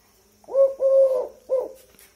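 A tame Eurasian collared dove coos loudly and close, giving three clear hollow notes: a short one, a longer drawn-out one, then a brief final coo.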